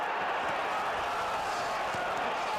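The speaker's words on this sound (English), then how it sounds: "The crowd responding." Boxing arena crowd reacting during a heavyweight fight between Frazier and Foreman in round four, a steady broad roar of voices with scattered claps, dense and continuous from start to end.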